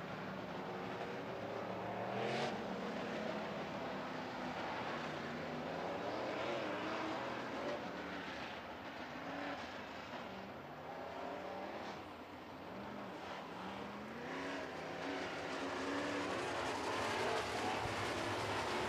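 Modified race cars, mostly Chevy-powered with a Ford among them, roar around a track at a distance, engines rising and falling in overlapping sweeps as they circle, faint and steady throughout.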